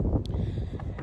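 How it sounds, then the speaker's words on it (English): Steady wind gusting and buffeting the microphone at the beach, a low rumbling roar throughout with faint higher rustles. "It's kind of windy, so please excuse if the wind is louder than me."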